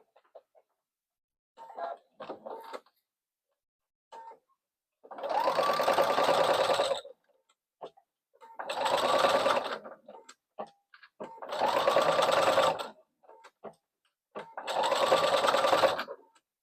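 A sewing machine stitches a small crossbody bag in four steady, even runs of a few seconds each, separated by quiet gaps with faint handling clicks.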